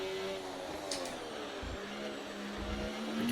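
Formula 1 car engine on a lap of Monaco, a thin high whine that drops in pitch through downshifts, with faint low thuds beneath and the tone rising again near the end.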